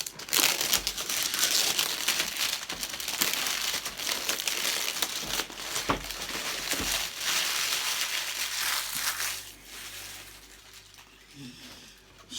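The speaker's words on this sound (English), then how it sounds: "cellophane off, no turning back now." Cellophane wrap crinkles and tears as it is peeled off a Hornby model kit box, close and fairly loud, a busy run of crackling that eases off toward the end.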